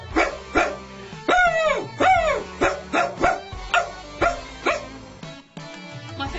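A person imitates a dog barking, giving a quick run of about a dozen loud, close yelping barks and bow-wows in an uneven rhythm, each with a sharp rise and falling tail.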